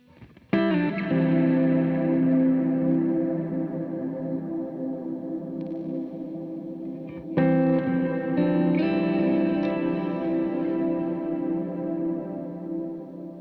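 Sustained guitar chords through a Cornerstone Nucleo reverb pedal, drenched in a huge, washy reverb that rings out and blooms like a vast stone hall, with a fresh chord struck partway through.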